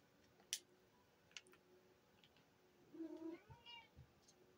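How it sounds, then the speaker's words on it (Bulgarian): A domestic cat gives a faint, drawn-out meow indoors, asking to go outside, after a few soft ticks and clicks in an otherwise quiet room. "Котката иска навънка."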